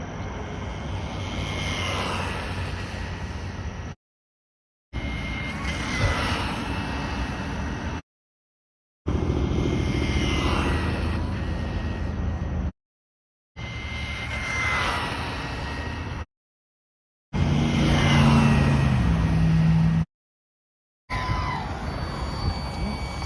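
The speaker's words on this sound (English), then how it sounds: "I'm gonna do a few runs now back to back and just see how many passes I can get before the battery starts to run low." An RC car on a 3S 850 mAh LiPo battery makes repeated speed passes, its electric motor and drivetrain giving a loud, sustained high-pitched whine that cuts off sharply between six bursts of a few seconds each.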